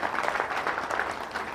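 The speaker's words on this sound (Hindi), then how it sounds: "एक बार जोरदार तालियां" Loud, dense applause from a large seminar audience fills the whole stretch, a continuous roar of clapping hands with no pauses.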